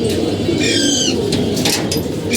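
Low, continuous cooing of game pigeons fills a loft, with a short brighter call in the middle and faint rustling, heard close and without speech.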